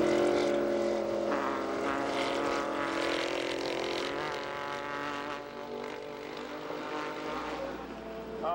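Race cars in the 1990 IMSA 12 Hours of Sebring, Porsche 962 among them, roar past in a loud blend of engine notes that swell and then recede.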